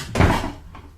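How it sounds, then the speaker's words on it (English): A door shutting indoors with a single solid thump and a short knock, loud and close, with a faint second knock just after and no talk over it. "And shut the door, sonny, and none of your listening at the keyhole."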